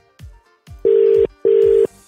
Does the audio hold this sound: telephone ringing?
yes